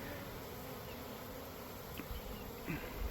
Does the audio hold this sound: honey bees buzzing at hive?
yes